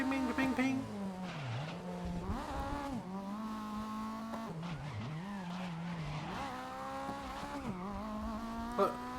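Race-car engine of a Honda Civic in the GRID racing video game, revving up and down through gear changes with tire skids and squeals, steady and loud throughout.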